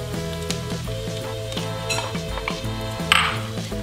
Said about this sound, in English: We're now going to add in our peas